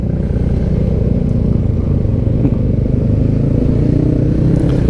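A motorcycle rides along close past a line of queued trucks, its engine a loud, continuous low rumble with wind buffeting and occasional clatter, no talk.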